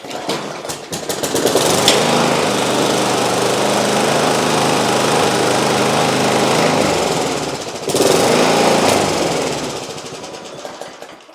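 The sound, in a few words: Briggs & Stratton lawnmower engine running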